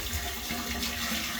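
Water from a bucket pours and rushes steadily down a toilet drain pipe after a root blockage was cleared, a faint continuous gurgling flow with no voices.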